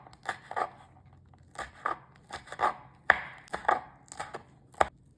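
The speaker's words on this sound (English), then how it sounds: "For mild green chilies cut into slices" A knife chops mild green chilies into slices on a cutting board, with about a dozen sharp, close taps in an uneven rhythm and short pauses between them.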